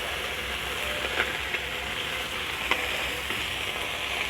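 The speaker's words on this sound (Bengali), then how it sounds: "এই মাছগুলো একটু হালকা করে সমড়ে নিতে হবে" Fish lightly frying in a pan, giving a steady, close hiss of sizzling oil with a few faint clinks and pops scattered through it, and no voices.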